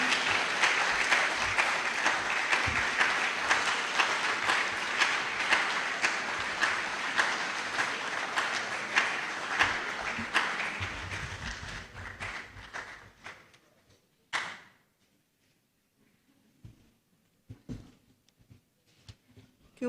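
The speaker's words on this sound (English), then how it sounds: "Can we give another round of applause for this exhausting, really?" A lecture audience claps long and steadily at an inaugural lecture. The sustained applause fades out toward the end and is followed by near silence with a few faint taps.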